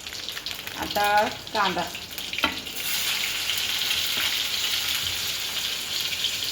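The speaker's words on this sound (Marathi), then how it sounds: "आता जिरे मोहरी तडकली तर हे कढीपत्ता मागवू. कढीपत्ता झाला." Curry leaves hit hot oil with cumin and mustard seeds, bursting into a loud, steady sizzling hiss after a few spoken words, with faint crackles continuing under the frying.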